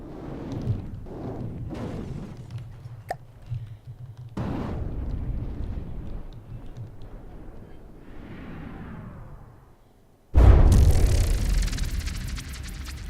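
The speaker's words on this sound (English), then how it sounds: "I'll spare you all of the labor-inducing cannon shots, but might show you some highlights, like that one right there." Cannon shots and explosions from the naval combat game From the Depths, with rumbling booms and a sustained roar ending in a sudden loud blast.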